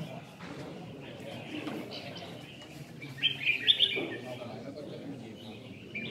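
A red-whiskered bulbul sings at a songbird contest, giving short bright chirps that rise into a brief louder burst of song partway through, under a murmur of crowd voices.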